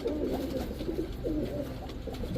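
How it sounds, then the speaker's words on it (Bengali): Pakistani Teddy high-flyer Giribaj pigeons, three pairs kept together, give a steady close chorus of overlapping low cooing that carries on without a break. "টোটাল 3 জোড়া কবুতর।"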